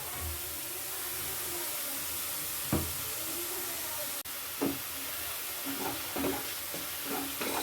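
Ginger-garlic paste, green chilli and onion are stir-fried in a pan for Bengali dahi katla, a steady sizzling hiss with several sharp spoon knocks and scrapes near the end.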